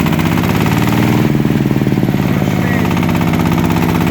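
A motor tractor (walking tractor) with a floating gearbox runs at steady revs in first gear in a cornfield, its engine a loud, close, continuous pulsing throb from start to finish.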